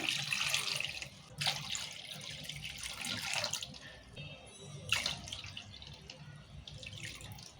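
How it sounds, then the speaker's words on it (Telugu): Tap water pouring into a pot over eggs, a steady splashing stream with a couple of louder surges near and alone, no talking. "ఇప్పుడు నీరు పోసుకుందాం ఇలా గుడ్లు మునిగేటట్టు పోసుకోవాలి నీళ్ళు"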